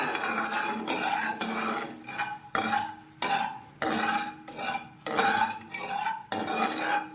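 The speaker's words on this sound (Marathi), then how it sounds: "साखर चांगली एकजीव होईपर्यंत मी दोन मिनटं मी चांगलं हलवत आहे" A spoon stirs sugar into traditional shevla kheer in a cooking pot, producing steady rhythmic scraping and clinking against the metal, close and continuous with short pauses between strokes.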